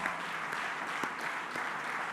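An audience at the Merv Cartwright Medal awards night at a Penrith conference centre claps steadily in a brief, even burst of applause, with a few sharper claps standing out.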